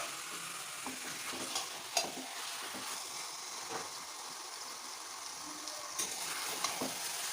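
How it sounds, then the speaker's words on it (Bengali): Chicken mixed with spices fries in a pan on a medium flame, a steady sizzling hiss broken by soft scrapes and taps as it is slowly stirred, close and quiet with no voices. "চিকেনের সঙ্গে সমস্ত মশলা মেশানো হয়ে গেছে। এরপর আমরা এইভাবেই আস্তে আস্তে নাড়াচাড়া দিতে থাকবো।"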